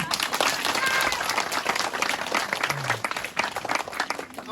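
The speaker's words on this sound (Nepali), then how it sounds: "तयारी ताली बजाइदिउँ" Wedding guests clap together in a sustained burst that thins slightly toward the end, with crowd voices mixed in.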